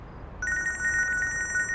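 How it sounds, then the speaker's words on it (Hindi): A telephone rings, a clear electronic ringtone starting after a short pause and trilling steadily and close, with no talk over it; the setting is a Turkish drama. "फोन बज रहा है तुम्हारा।"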